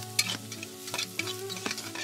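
Chili and spice mix being stirred in a hot pan, a spoon scraping and clicking in short strokes over a soft steady sizzle, close by, with no one talking.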